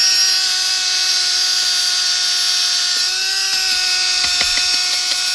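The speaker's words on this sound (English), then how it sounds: "a drill with this little thing on the end. I'm going to use that to make the dirt easier to dig out" A high-pitched power drill with a digging bit whines steadily, with a few short scraping bursts near the end as it bites into dirt.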